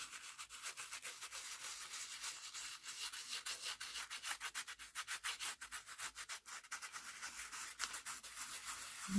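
A finger rubs metallic gilding wax onto a frame in quick back-and-forth strokes, making a soft, close, continuous scratchy rubbing with no speech.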